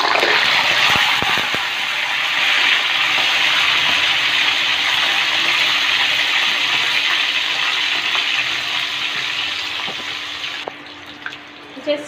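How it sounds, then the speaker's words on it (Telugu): Batter spooned into hot oil fries with a loud, steady broadband hiss and crackle lasting most of the stretch, then thinning out toward the end, with a few sharper pops near the close. "జస్ట్ ఇలా మిక్స్ చేస్తూ కొంచెం పేలుతున్నాయి ఆయిల్ పైన పడుతుంది"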